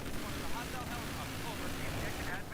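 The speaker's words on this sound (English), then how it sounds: "Now we have a helicopter here as well." Helicopter flying in Battlefield 3, a dense steady rotor-and-engine roar holding at even loudness throughout, mixed with other battle noise and no clear talk.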